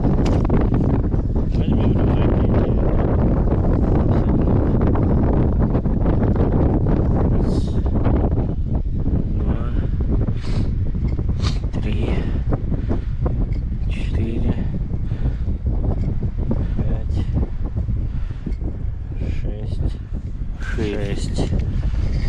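Strong, steady wind buffets the microphone during winter fishing on the Ruza in heavy wind and snow, a loud continuous low roar with gusty rustling throughout.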